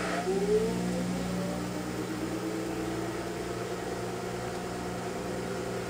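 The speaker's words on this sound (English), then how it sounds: "it's going to go into a low speed 600 RPM spin. Notice it turns on the drain pump." Kenmore (LG) front-load washing machine ramping into a low-speed 600 RPM spin with its drain pump running, a steady mechanical hum and whir with a rising whine, continuous and fairly close, no talking.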